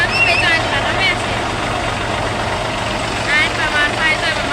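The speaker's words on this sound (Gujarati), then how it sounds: "અમે હલર લઈ આવ્યા કા ટ્રેક્ટર અમારું છે" Steady low drone of a tractor engine driving a crop huller on a farm, running without pause under intermittent nearby chatter.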